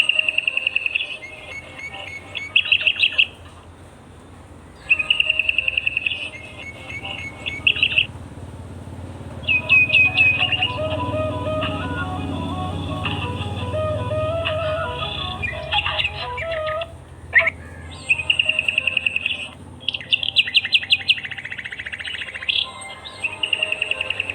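Wild golden-coloured birds sing and chirp in a natural outdoor setting, with dense, repeated high trills and tweets overlapping continuously alongside a steady insect-like buzz, loud and close throughout.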